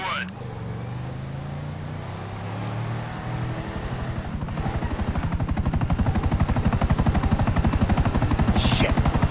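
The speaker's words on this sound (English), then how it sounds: "Chopper." A helicopter in Grand Theft Auto V thrums with a fast, steady rotor chop that grows louder and dominates after a few seconds, following engine rumble and a brief voice at the start.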